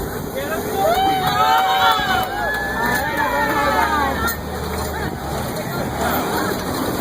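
A crowd of riders on the Great Adventure safari ride cheers and whoops loudly for a couple of seconds, then settles into murmuring chatter over a rumble of vehicle and wind noise.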